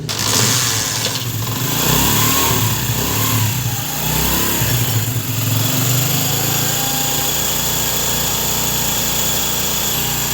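A Honda CD70 motorcycle engine runs close and loud with a steady, buzzy idle, a few brief rises in revs early on, then settles into an even drone.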